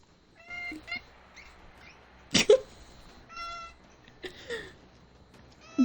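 A house cat by a window gives several short, close meows spread over a few seconds, each a clear rising cry separated by quiet gaps, with faint background voice.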